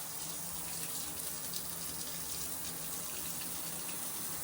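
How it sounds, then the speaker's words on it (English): Water leaks from a shower unit in a steady, hissing spray, a continuous rush with no pauses and no voices. "Unfortunately, we now have a leak from the shower unit itself."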